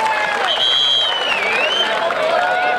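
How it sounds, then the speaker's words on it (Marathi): An audience at a Maharashtra Olympics kabaddi semi-final between Mumbai Shahar and Nashik claps loudly in a steady, dense wash of applause with cheering, and a voice rises over it. "सगळ्या प्रेक्षकांनी एकदा स्वतःसाठी जोरदार टाळ्या वाजवा."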